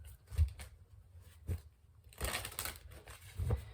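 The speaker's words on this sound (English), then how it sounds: "some initial shuffling" Tarot cards being shuffled by hand, soft intermittent riffles and taps close to the microphone with a longer rustling burst in the middle, quiet overall.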